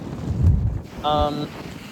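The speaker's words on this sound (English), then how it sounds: "The wind is stinging my neck." Strong wind buffets the microphone on Seaford Pier by the sea, a loud rumbling gust in the first second followed by a brief voiced sound, then lighter blowing.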